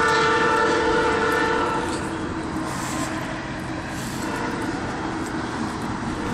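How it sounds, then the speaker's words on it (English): A Canadian National freight train rumbles steadily past in Effingham, Illinois, close and loud throughout, with continuous wheel and engine noise and a faint horn-like tone. "We got a Canadian National train."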